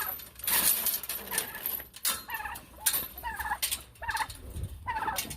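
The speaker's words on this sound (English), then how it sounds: "Let's let these chickens out." Chickens being let out of a backyard coop, with busy clucking and squawking calls in repeated bursts, close by and mixed with rattling and knocking sounds.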